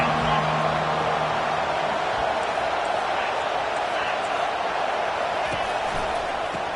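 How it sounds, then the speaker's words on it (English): Stadium crowd noise from a college football game in the NCAA 25 video game forms a dense, steady roar throughout, with a voice faintly audible inside it. "This crowd bringing the energy and noise early."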